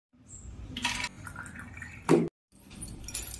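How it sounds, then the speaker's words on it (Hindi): Water draining and dripping from a Kent Gold Optima water filter being emptied before a UF membrane change: a soft trickle, a sharp splash-like drip, a brief pause, then more trickling, close by. "पहले सारा पानी ड्रेन कर लेंगे जो भी आपका फिल्टर हो के रहा।"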